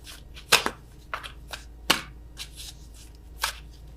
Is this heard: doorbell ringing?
no